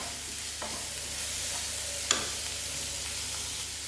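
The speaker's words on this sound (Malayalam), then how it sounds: "നമുക്ക് ചെറുതായിട്ട് അരിഞ്ഞ വെളുത്തുള്ളി ഇട്ട് കൊടുത്തിട്ട് നമുക്ക് ക്യാപ്സിക്കൻ അരിഞ്ഞത് ഇട്ട് കൊടുക്കാം. നമുക്ക് മിക്സ് ചെയ്യാം." Finely chopped garlic and capsicum stir-fry in a pan, a continuous close sizzle with occasional scrapes and a single sharp clink as they are mixed.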